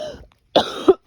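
A person coughs a few times in short, close bursts separated by brief silence.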